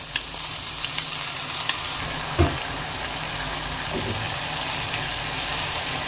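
Prepared masala spices with a dried red chilli sizzle and fry in a pan for a Bengali vegetarian jackfruit curry, a steady soft crackle with one brief stirring clatter and a faint later scrape.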